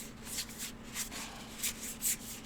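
Tarot cards are shuffled up close in a handful of soft, papery bursts, roughly evenly spaced, with quiet room tone between them.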